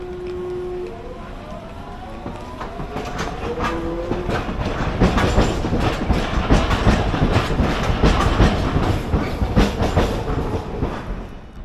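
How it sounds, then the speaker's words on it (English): A tram rolls past nearby, its rumble and rhythmic clatter over the rails building louder, with a brief tonal signal early on. "But they do have cool sounding trams."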